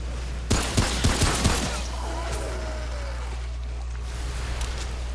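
Gunfire in the video game Remnant: From the Ashes, a quick run of about six loud shots early on, then a lingering low rumble and ambient hum with no talk.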